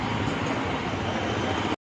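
A train passes a closed railway crossing on a traffic-filled road, making a steady, dense rumble that holds level for almost two seconds and then cuts off abruptly.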